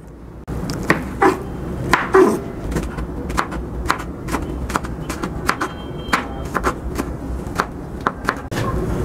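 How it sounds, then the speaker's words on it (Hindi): Green onions are finely chopped with a knife on a board, a steady run of sharp, close chopping taps at an even quick rhythm, with faint background noise throughout. "इनको भी बारीक बारीक चॉप कर लेंगे।"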